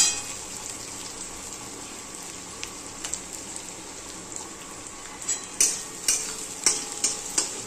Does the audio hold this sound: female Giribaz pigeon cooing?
no